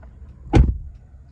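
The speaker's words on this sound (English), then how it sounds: "Man, car doors just don't sound like that." A single solid door slam on a 2014 Mercedes-Benz E350 4Matic (W212), one close, heavy, deep thud that dies away quickly into a quiet interior.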